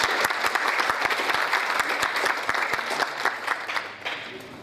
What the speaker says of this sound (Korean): 여러분 뜨거운 환영의 박수 한번 부탁드립니다.